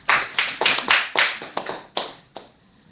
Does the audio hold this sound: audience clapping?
yes